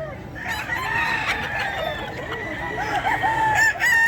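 A golden boy rooster at a poultry market in Bocaue, Bulacan crows and clucks continuously at close range, with several loud, rising calls over a busy background of other fowl.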